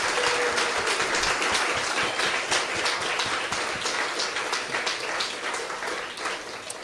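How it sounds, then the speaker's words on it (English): Sustained audience applause fills a ceremony hall at a Twinings Morning Tea launch honouring ten women and their charities, dense steady clapping that holds loud throughout and eases slightly toward the end. "please join me in one final round of applause"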